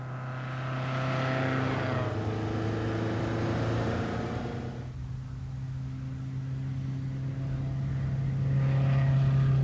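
A 1962 Lotus Elite sports car with a 1216 Coventry Climax engine runs steadily with a droning hum, rising in pitch and falling away as it revs, then building again; no one speaks.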